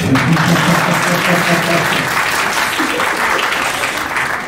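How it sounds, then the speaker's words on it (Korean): Wedding guests at a Seoul penthouse ceremony break into loud, steady applause for the master of ceremonies, with some voices and laughter mixed in during the first seconds. "사회자한테 박수 한번 쳐주세요"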